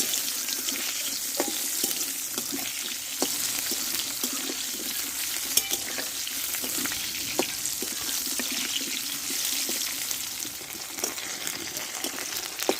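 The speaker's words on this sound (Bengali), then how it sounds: "দেখো ডাটা আলুটা আমি ভালোভাবে তেলে কষিয়ে নিচ্ছে" Pumpkin stems and potatoes stir-frying in hot oil, a steady sizzle broken by clicks and scrapes of the spatula against the pan, close by and fairly quiet, with no talking.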